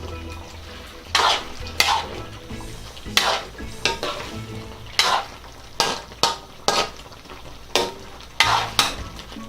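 Chicken curry with black mushroom is stirred in a pan, with a soft continuous simmer broken by repeated sharp scrapes and knocks of the utensil against the pan at a steady, loose rhythm; no talking.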